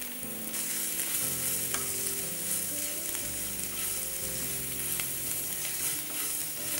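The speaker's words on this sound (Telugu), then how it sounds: "ఇప్పుడు ఇంకా స్టర్ ఫ్రై దాదాపు రెడీ అయిపోయింది కాబట్టి ఇంకా నేను స్టవ్ తగ్గించేసానండి" Mixed vegetables stir-fry in a pan with cumin and coriander powder, giving a steady, dense sizzle that runs unbroken throughout, with faint spoon movements beneath it.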